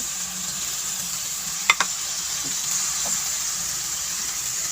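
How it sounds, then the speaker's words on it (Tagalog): Pork sautéing in a pan for menudo, with a steady close sizzle and a couple of sharp utensil clinks partway through. "medyo na nagigisa na rin yung ating baboy"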